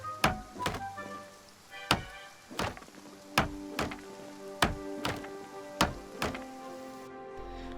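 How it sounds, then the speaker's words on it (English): Repeated wooden thunks of fence-building in Project Zomboid, about a dozen sharp hammer-like knocks at an uneven pace, loud and close over a faint ambient background. "let's quickly build a fence around this thing"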